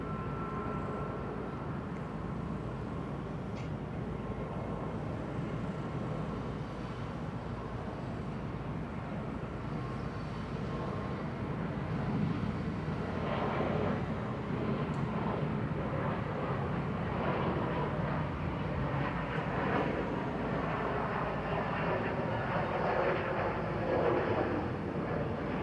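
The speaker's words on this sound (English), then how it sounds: "Cebu Pacific on the roll now, the A321neo, heading back to Manila" A Cebu Pacific Airbus A321neo rolls for takeoff at Bangkok Suvarnabhumi Airport on an overcast, humid day, a distant broad jet roar building gradually and staying steady, with no talk over it.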